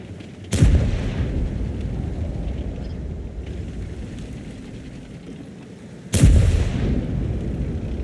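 Two heavy tank cannon shots in World of Tanks boom out several seconds apart, each a sharp, loud blast trailing into a rumbling decay over a low background hum.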